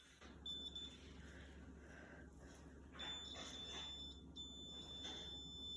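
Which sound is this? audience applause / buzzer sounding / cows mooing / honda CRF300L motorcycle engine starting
buzzer sounding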